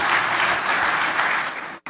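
An audience at an awards ceremony claps steadily in a dense, sustained round of applause that cuts off abruptly near the end.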